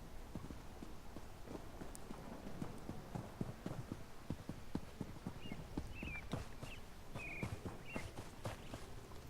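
Hooves clip-clop at a steady pace in a video game, over a quiet rushing ambience, with a few faint chirps toward the end.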